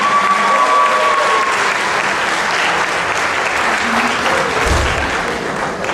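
A crowd applauding after a Ganapati festival folk program, loud continuous clapping that fills the hall throughout, with a faint tone and a low thump partway through.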